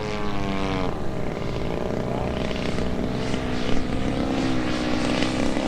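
A 50cc Maxford USA Antonov An-2 radio-controlled model biplane flies overhead on its maiden flight. Its petrol engine drones loudly and steadily, with the pitch rising and falling as it manoeuvres.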